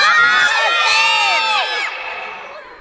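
A group of people shout loudly together into a microphone as a test, practising screams for calling for help; a sustained chorus of overlapping yells that fades toward the end.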